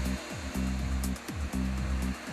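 A Sebo Dart 3 high-speed floor polisher running on a hard floor, a loud, close, steady whirring hum that swells and dips in a regular rhythm as the machine sweeps back and forth.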